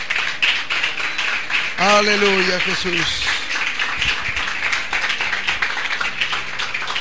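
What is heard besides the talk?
applause in church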